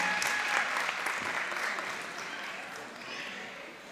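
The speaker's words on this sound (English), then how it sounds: "Let's applaud her" A crowd at a community baby shower clapping for a prize winner, a dense, moderately loud patter of applause that fades slightly over a few seconds with voices mixed in.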